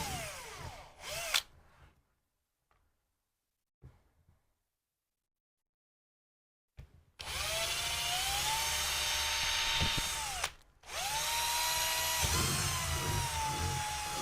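A power drill driving screws into a DIY front carrier basket, two loud sustained whirring bursts after a short buzz and a stretch of near silence, with a brief pause between them.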